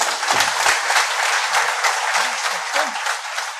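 An audience at a political rally breaks into sustained applause, a dense wash of clapping that holds steady for several seconds, with faint voices mixed in underneath.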